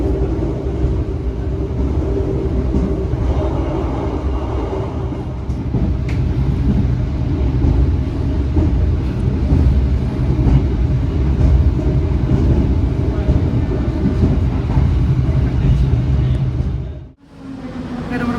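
Steady low rumble of the Gaya Baru Malam Selatan economy train rolling toward Jombang station, heard from inside the carriage, holding loud and even before dipping abruptly near the end and picking up again.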